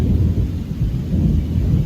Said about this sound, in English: Oh, it's raining harder now.